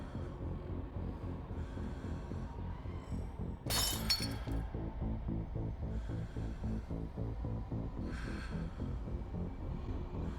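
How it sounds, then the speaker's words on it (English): A window shatters in the horror game Scarlet Hollow: one sudden, loud crash of breaking glass with a bright tinkling spray, briefly rising above steady background music. "The window shatters."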